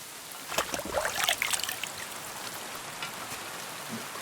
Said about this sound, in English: And of course it rains.